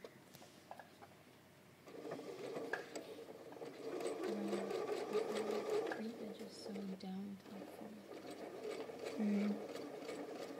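Sewing machine running a long ease stitch on a pocket, a soft rhythmic whirring in several short bursts with pauses, moderately close, while a person speaks briefly over it.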